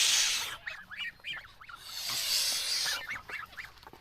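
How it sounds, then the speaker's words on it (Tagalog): A goose honks repeatedly and close by, in short nasal bursts grouped in two runs with a pause between, over a steady hissy background. "So kawawa naman yung isang ganso namin, oh."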